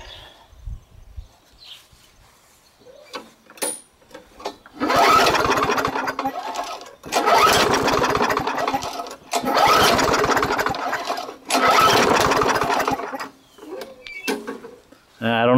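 A push lawn mower engine turns over and runs in several loud bursts of a few seconds each, separated by quieter gaps where someone talks, the running sputtering unevenly as it pops back through the exhaust.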